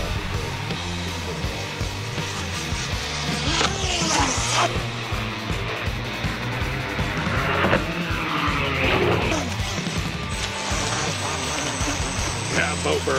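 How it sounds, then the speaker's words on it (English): A powerboat doing a burnout in water, engine roaring steadily and loudly throughout with rising surges and splashy hiss, close and continuous. "Yeah, boat burnout."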